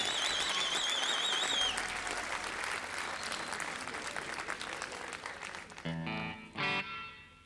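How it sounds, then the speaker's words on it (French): A concert audience at a youth music show claps loudly and steadily, with lingering effects-laden guitar tones over the start and a band sounding out again beneath the fading applause at the end. "Vous pouvez encore applaudir bien fort Noah, Sam, Nohan et Virginie"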